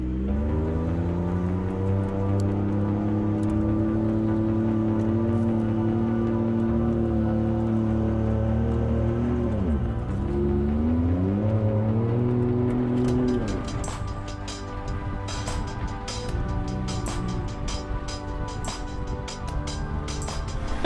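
A vehicle engine strains and revs steadily while towing a Hyundai out of Lake Powell, loud and close, with shifting pitch midway and a rougher, noisier stretch toward the end.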